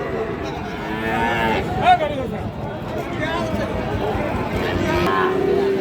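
A Sahiwal bull calf moos repeatedly at a busy cattle market in Bangladesh, drawn-out bellows rising over a steady background of crowd chatter and people talking nearby.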